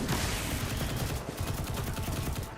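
Rapid SMG fire in the shooter game Destiny Rising, a continuous close burst of fast, evenly spaced shots running the full length, loud and sustained without any voice.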